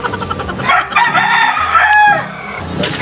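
A rooster crows loudly and close by, one long full cock-a-doodle-doo with clucking fowl around it, heard with no talking.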